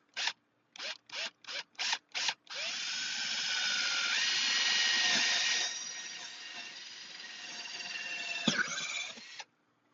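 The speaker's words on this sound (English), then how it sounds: "Seems counterintuitive to drill a hole in your boat." A power drill bores a hole into a wooden skiff hull, first with several short trigger bursts, then a long steady whine that shifts pitch as the bit bites into the wood before stopping, loud and close.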